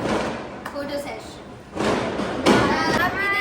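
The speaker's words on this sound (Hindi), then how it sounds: "बहुत पटाखे बज रहे हैं।" Diwali firecrackers burst somewhere nearby, giving a few dull thuds and cracking pops at irregular intervals while people talk.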